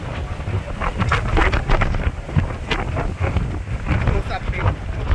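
Strong wind buffets the microphone at the Cape of Good Hope, South Africa, around sunset: a loud, continuous roar with repeated gusts and no clear talk.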